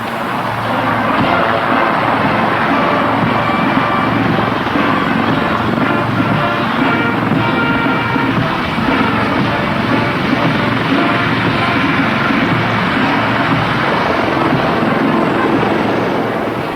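A loud, steady roar from several helicopters' rotors fills the whole stretch at an army helicopter parade, a continuous thumping drone with no voices.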